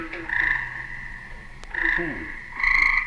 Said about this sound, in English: It's terribly hard to find things like a tree frog because they're ventriloquists.